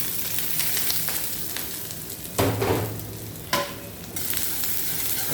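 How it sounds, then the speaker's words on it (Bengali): Chopped garlic fries in hot oil until crisp, a continuous near sizzle with several louder bursts as a spoon stirs and scrapes the pan. "বেরেস্তাটা আমি সুন্দর করে ভেজে নেব এই রসুনের বেরেস্তা"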